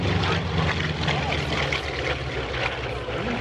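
An A-model Mustang aircraft at an air show: a steady, loud propeller engine drone with a deep rumbling beat, continuous throughout, with crowd and ambient noise mixed in.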